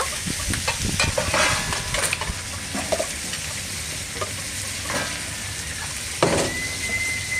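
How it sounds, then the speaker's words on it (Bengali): Water splashes into mutton cooking in a hot pan, setting off loud sizzling and bubbling, with stirring scrapes and a few sharp clanks along the way, and no voices. "আরেকটু জল দিচ্ছি আমি"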